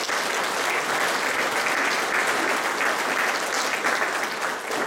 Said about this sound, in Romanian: merită să-i aplaudăm în vomața aceasta